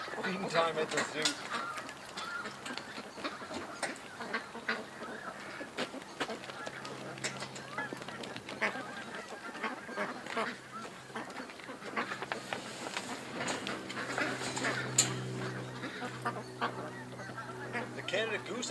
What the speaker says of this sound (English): The Canada goose action down the other end of the lake is pretty intense